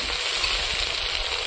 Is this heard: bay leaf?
yes